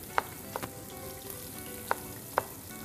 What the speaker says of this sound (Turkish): Bu arada tereyağımız eritildi sevgili izleyenlerimiz.